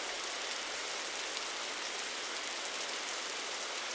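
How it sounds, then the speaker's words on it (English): Steady, even rain falls throughout a stretch of the horror video game EVIE, a dense close hiss of drops on surfaces with no talking over it. "I'm just walking in the rain."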